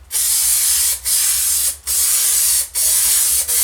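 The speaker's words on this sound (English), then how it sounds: "It's a spray-on glue, spray glue" Four bursts of spray-on corner bead glue, each a steady close aerosol hiss lasting under a second, separated by brief pauses.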